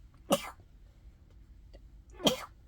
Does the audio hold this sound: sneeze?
yes